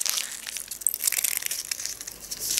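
Crinkly plastic crushing as a small sheet-mask packet is squeezed to press out the leftover serum, a close, continuous rustling crackle with brief sharper crinkles, no talk.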